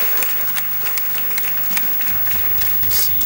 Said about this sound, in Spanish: ¡Un bueno, aplauso!